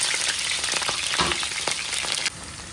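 Eggplant cooking with dried fish sizzles steadily in a hot pan, a dense continuous frying hiss with small crackles and the odd scrape of a spoon, close and fairly loud with no voices.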